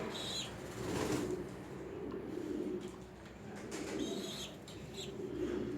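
Young pigeons coo softly with occasional wing flaps and chirps, a steady low murmur of bird sounds rising and falling over several seconds, fairly close and moderately quiet, with no talking.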